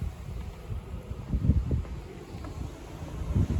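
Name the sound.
strong wind during storm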